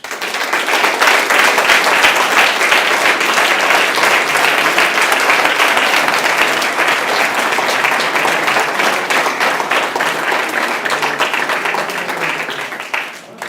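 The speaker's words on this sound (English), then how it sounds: "welcome with a big applause" An audience gives loud, sustained applause welcoming the Basso SV (Sempre Veloce) bike at its product presentation, the clapping dense and even for over ten seconds before fading out.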